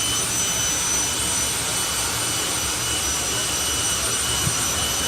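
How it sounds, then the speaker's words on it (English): A jet-powered funny car dragster engine at Santa Pod Raceway during the FIA European Finals roars in a steady, loud, unbroken whine and rush, with no talk over it. "You're about to have two very happy funny car drivers coming your way, and they're Jet funny car drivers."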